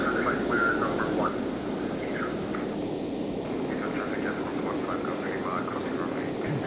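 Steady loud jet engine roar fills the cockpit of a Citation Jet 525 in a flight simulator, a constant broadband drone running throughout with no breaks.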